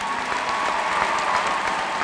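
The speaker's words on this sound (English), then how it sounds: "So let's give them another round of applause." Steady, dense applause fills a large commencement crowd at a 2010 graduation ceremony, continuous and fairly loud without any speech over it.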